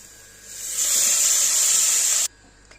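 A loud sizzling hiss swells up as a beef curry mixture is poured into hot oil tempering, holds steady for a couple of seconds, then cuts off abruptly.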